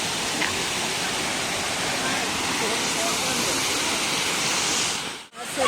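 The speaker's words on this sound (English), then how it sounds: "So this is the Kaipholangso Waterfall that you see at my back." Kaipholangso Waterfall in Karbi Anglong roars as a steady, loud, broadband rush of falling water, unbroken for several seconds before a brief dip at the end.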